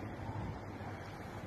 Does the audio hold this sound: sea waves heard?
yes